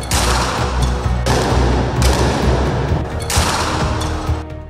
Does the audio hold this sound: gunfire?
yes